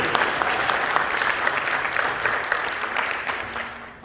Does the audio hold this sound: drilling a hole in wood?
no